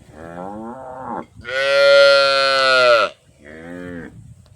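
A cow lets out three close, loud moos on a farm: a shorter call, a long sustained bellow, then a brief final call, with no talking.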